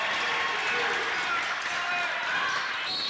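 A high school boys basketball crowd at BFA cheers, a steady, dense roar filling the gym without letting up, with an announcer's voice likely in the mix.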